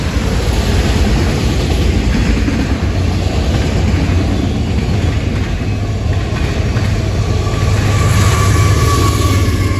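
A CSX M214 freight train rolls past close by, a loud, steady rumble of locomotive and railcars with faint clickety-clack that holds the whole time without letup.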